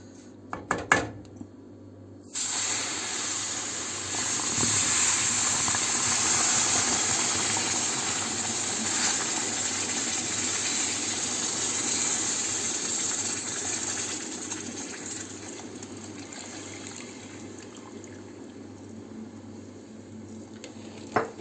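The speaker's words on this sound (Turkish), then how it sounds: "Şimdi de yavaş yavaş sütümü ekliyorum. Biraz duman çıkabilir." Milk poured slowly into hot semolina halva in a pan, giving a steady loud hiss and sizzle of steam that starts abruptly, holds for several seconds, then gradually fades.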